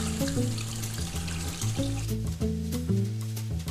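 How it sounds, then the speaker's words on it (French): Cold water pouring from a tap into a bowl to soak raisins in a home kitchen, a steady splashing flow heard faintly behind background music. "Prune, est-ce que tu veux bien mettre les raisins secs à tremper dans un bol d'eau froide"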